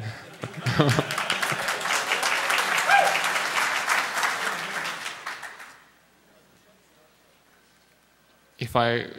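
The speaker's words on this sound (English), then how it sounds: "Applause already." A hacker conference audience at DEF CON claps loudly and densely for several seconds before fading out, leaving near silence until a speaker's voice returns at the end.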